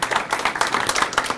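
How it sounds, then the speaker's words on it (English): Audience clapping at an awards press conference after a catered meal, a brief patter of many hands at steady loudness with no voices over it. "I'd like to hear a round of applause for"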